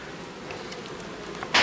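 Honeybees humming around a hive comb during a winter colony inspection, a soft continuous drone near the microphone, ending in a sudden brief rustle or bump, no speech.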